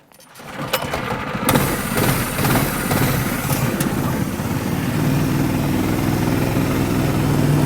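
A small go-kart engine fitted with motorcycle shocks starts up and runs loud and close, a rough buzzing drone that settles into a steady, slightly rising note after a few seconds.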